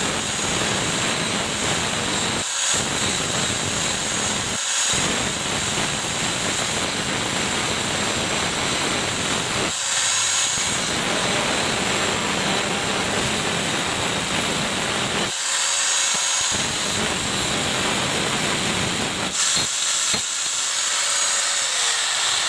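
A grinder works on a CVT part from a Honda automatic scooter, giving a steady loud hissing whine that runs nearly throughout, broken by a few short pauses.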